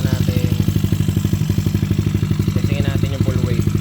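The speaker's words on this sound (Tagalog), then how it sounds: "Buhayin na yung makina natin." A Yamaha Mio scooter engine fires up and settles into a steady, rapid idle chug with a metallic clatter, loud and close throughout.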